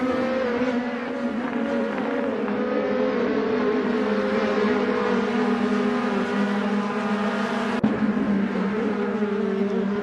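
A pack of 2018 DTM race cars circles TT Circuit Assen in the racing game Assetto Corsa, their engines blending into a steady, close, droning whine that holds for ten seconds with a brief sharp click partway through.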